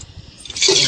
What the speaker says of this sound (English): Now I'm going to use this water that I soaked the Rajma in.